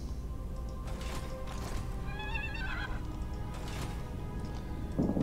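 Horses neighing in the Total War: Warhammer 2 video game, a clear whinny rising and falling in the middle over a constant background rumble of battle noise and hoof clatter.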